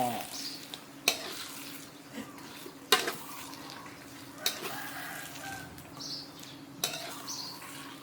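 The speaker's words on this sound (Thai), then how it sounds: "เดี๋ยวทีก็เอาผักลงไปค่ะ นี่ค่ะ แล้วก็คนให้เข้ากัน" Vegetables and egg stir-fried in a pan make a soft continuous frying sizzle, broken by sharp spatula clinks against the pan every second or two. A faint voice may sit underneath.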